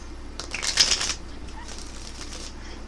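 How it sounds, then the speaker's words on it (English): Tarot cards shuffled by hand, a quick crisp riffling flutter up close that peaks briefly, then softer card rustles and faint handling. "One more shuffle, please."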